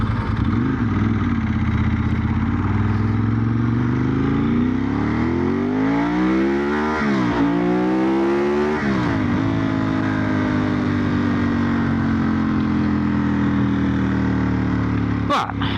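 A Ducati 916 motorcycle on an open road revs up hard through the gears, with a loud, close engine note that climbs, drops at each shift and climbs again, with no speech over it.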